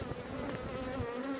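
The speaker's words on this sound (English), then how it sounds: "There's another bee in my suit." A bee trapped inside a beekeeping suit buzzes loudly and close, a steady droning hum with slight wavering pitch throughout, during a late-season hive check before winter.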